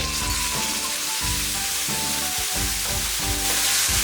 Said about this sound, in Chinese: 重新加一点油，热锅凉油下牛肉